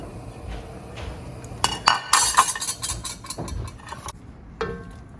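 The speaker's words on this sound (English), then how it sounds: "I'm going to throw in our shrimp and all these beautiful juices in here to heat our shrimp through" Shrimp and their juices tossed into a pan of thin linguine in vodka sauce, with sharp metallic clinks and clatter bunched in the middle and scattered knocks before and after, close and fairly loud.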